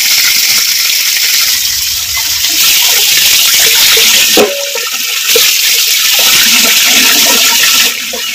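Water gushes loudly and steadily over goat heads being washed with turmeric, a close, continuous splashing pour with brief changes in the flow and no talking.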